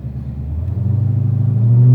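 Engine of an 1100 HP Dodge Demon in drag mode, a loud steady low rumble building as the car accelerates, with a rhythmic pulsing and a harder surge near the end as it shifts.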